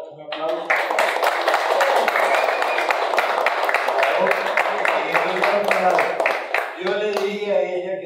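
An audience gives sustained applause at a political discussion event, dense clapping that starts right after a voice, holds steady for several seconds, then fades as she speaks again.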